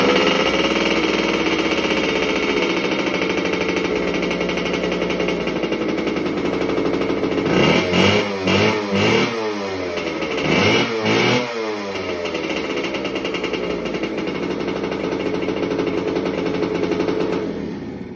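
A Hodaka Road Toad two-stroke motorcycle engine runs loud and close, holding a buzzy idle before two sharp rising revs around the middle, then settling back to a steady, raspy drone.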